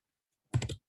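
A quick burst of computer keyboard typing, three or four close keystrokes in under half a second after silence.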